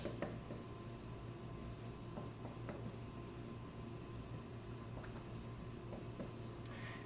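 A pen scratches steadily across paper as handwritten notes go down, a soft, continuous close-up scribble over faint background hiss, no voices.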